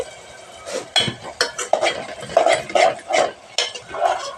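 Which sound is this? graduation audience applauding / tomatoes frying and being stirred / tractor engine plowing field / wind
tomatoes frying and being stirred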